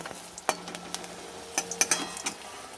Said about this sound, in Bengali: এবার আমি এইভাবে উল্টে উল্টে ভেজে নেব ভালো করে